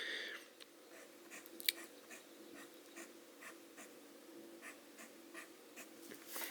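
A TWSBI ECO fountain pen with a broad nib scratches softly across paper in a string of faint, quiet strokes and ticks, with no talking.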